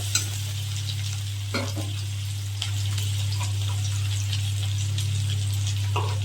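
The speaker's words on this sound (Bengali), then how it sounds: "ডিম দিয়ে ফুলকপি ঝোলের জন্য তেল দিয়ে দিয়েছি, এবার পেঁয়াজ কুচি দিয়ে দিচ্ছি" Chopped onion fries in oil for an egg and cauliflower curry, a steady close sizzle with a few sharp spatters and spoon knocks, a low hum underneath, no voices.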